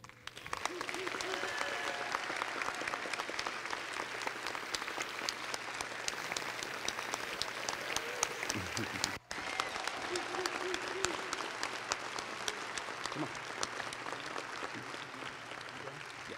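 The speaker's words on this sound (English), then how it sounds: "just give them another round of applause" A church congregation applauds during a Sunday worship service, sustained dense clapping filling the room for about sixteen seconds, with a brief dip midway and faint voices underneath.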